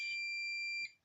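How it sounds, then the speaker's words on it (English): Digital multimeter in continuity mode emitting a steady electronic beep as its probes touch, one sustained tone lasting most of a second before cutting off, close and clear. "You can hear when I connect the two probes, the multimeter is beeping."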